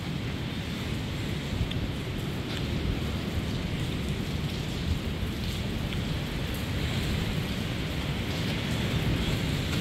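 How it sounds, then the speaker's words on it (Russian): Heavy rain pours down steadily and densely during a storm in Arkhipo-Osipovka, a loud continuous roar of drops hitting surfaces with no letup. "Дождь сильный пошел."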